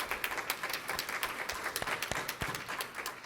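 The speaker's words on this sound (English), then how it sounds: "Please clap it up for Laura." Audience at a policy conference panel claps for a speaker, a moderate, uneven patter of individual claps with some louder hand strikes poking out from the crowd.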